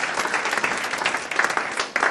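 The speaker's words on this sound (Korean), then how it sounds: "가장 멀리서 오셨는데 한 박수 한번 치시죠" A church congregation at a Methodist pastors' gathering gives a short burst of clapping for a speaker. The handclaps are close and uneven and swell and dip over about two seconds.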